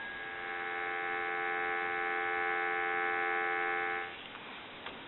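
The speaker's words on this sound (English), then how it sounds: "Give you some dial tone." A steady, fairly quiet dial tone from a Western Electric 302 rotary desk telephone hums continuously for about four seconds, then cuts off with a faint click.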